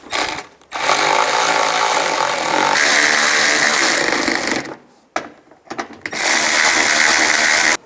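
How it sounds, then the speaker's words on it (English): A hand ratchet tightens mud guard screws on a 2005-2015 Nissan Xterra during front suspension work, with loud, close, rapid clicking in long continuous runs separated by short pauses. "Now I'm going to install the mud guard and the screws and tighten them all down."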